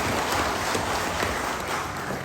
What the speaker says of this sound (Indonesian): Saya minta tepuk tangan yang meriah untuk ketua PAC.